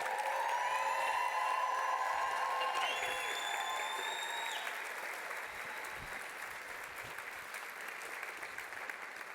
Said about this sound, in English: could we summon, like, the loudest round of applause that we possibly could for Kirsty